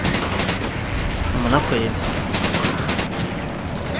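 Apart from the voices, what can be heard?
gunfire in video game Medal of Honor: Pacific Assault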